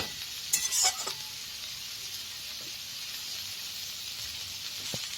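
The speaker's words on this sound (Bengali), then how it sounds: "দেখো আর একটু ভাজবো" Leafy greens frying in a pan, a steady hiss of sizzling oil running throughout with a few spatula scrapes and clinks near the start, close and moderately loud, no talking.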